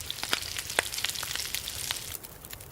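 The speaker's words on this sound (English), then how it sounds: "let's cook us some gamey venison" Venison cooking over a campfire in The Long Dark, a soft crackling sizzle with scattered sharp pops and ticks over a low steady hiss, fairly quiet and with no voices.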